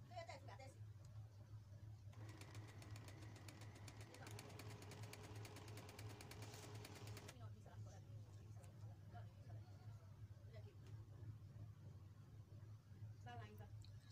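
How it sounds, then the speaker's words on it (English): A home sewing machine stitching two sides of fabric together, a rapid even mechanical rattle running for about five seconds in the middle of a quiet room, with low hum throughout. "So I'll just take it to my sewing machine and just connect them."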